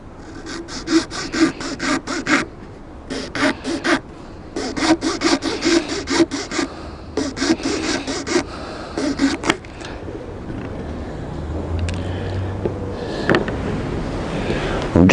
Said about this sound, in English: I'm just dressing down the edge with a bit of abrasive.